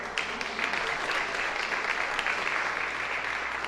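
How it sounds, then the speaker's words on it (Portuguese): An audience breaks into sustained, dense applause that stays loud and even throughout, many hands clapping together in a hall. "Voluntariamente, ele merece palmas."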